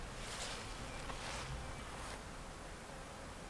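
Honeybees from three garden hives on an active day make a soft, continuous buzzing that stays faint and even throughout, with light rustling and no voices.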